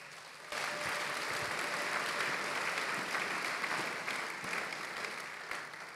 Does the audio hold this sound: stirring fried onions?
no